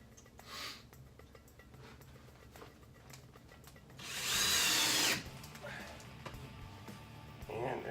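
A power drill whirs for about a second as it drives deck screws into wood, rising loud against a quieter room with scattered small clicks and handling noises before and after.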